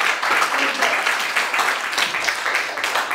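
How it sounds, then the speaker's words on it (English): Workshop audience applauding for a speaker at a grant-writing session, a moderately loud, even patter of clapping that continues for about three seconds with some voices mixed in. "Round of applause once more."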